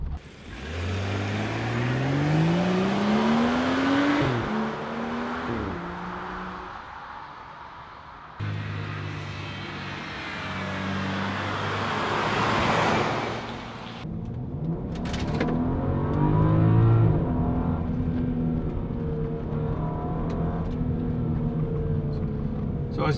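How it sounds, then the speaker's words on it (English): A BMW X5 engine revs and pulls hard through rising gear changes, loud and close, with a strained growl that climbs, drops and climbs again. "So as you can hear, the car pulls so hard"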